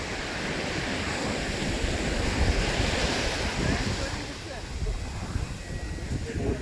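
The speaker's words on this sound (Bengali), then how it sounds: "সমুদ্রের পানি পা ভিজিয়ে দিয়ে চলে যাচ্ছে, আর নদীতে আসতেছে ঢেউ, আবার যাইতেছে, আবার আসতেছে।" Sea waves washing onto the beach at Cox's Bazar, a continuous close surf wash with gentle swells and wind buffeting the microphone.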